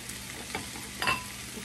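Garlic hits a hot pan and sizzles in short soft bursts with a slight stir-like scrape, close and fairly quiet against a low kitchen background.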